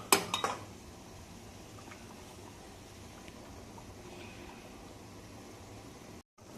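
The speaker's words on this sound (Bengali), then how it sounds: "এবার ভালো করে নেড়ে দেব, কিছুক্ষণ রাখবো যাতে এই পটলটার মধ্যে মশলাটা ঢুকলে যাতে টেস্টও হয়" Pointed gourd being stirred with spices in a pan, a quick cluster of metal spoon clinks and scrapes at the start, then a quiet steady simmer.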